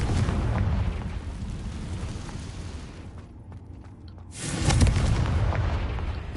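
A Confringo explosion spell cast in a Wizarding World video game sets off heavy, rumbling blasts that roar for several seconds, dip briefly into a lull with faint crackles, then surge into a fresh loud eruption.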